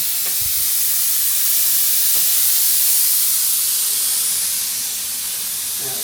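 Spray glue hisses steadily from a can during reassembly of a Jaguar MKII car, a continuous, close, fairly loud rushing spray with no talking.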